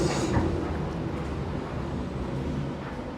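A train pulls into a station in Schwerin, Germany, producing a steady, fairly loud low rumble of rolling wheels and carriages that holds evenly throughout, with no voices.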